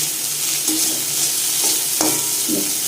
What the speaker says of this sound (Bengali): মাছগুলো মোটামুটি ভাজা হয়ে এসছে আর একটুখানি ভেজে নেবো